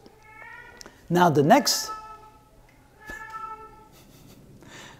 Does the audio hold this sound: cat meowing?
yes